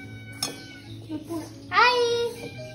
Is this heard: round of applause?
no